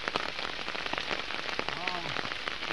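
Rain patters steadily on surfaces nearby at a supari (areca nut) farm, a dense crackle of drops, with a brief faint voice partway through.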